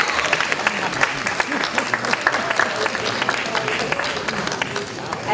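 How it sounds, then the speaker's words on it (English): Audience at a school board candidates forum giving a round of applause, a steady wash of clapping from a crowd in a hall with some murmur and movement mixed in. "Please give a round of applause to all the candidates."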